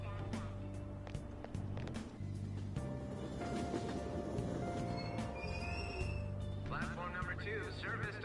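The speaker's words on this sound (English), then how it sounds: "Train doors are now closing." Japanese subway train in Persona 5 Royal, a steady rumble of wheels and carriage running through the whole stretch with a rising squeal near the end, under station announcements.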